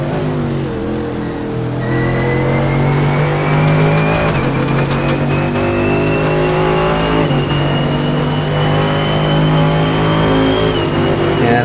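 GT3 race cars lapping Monza in the iRacing sim, engines droning loud and steady with rising revs as gears climb, multiple cars overlapping throughout with no voices.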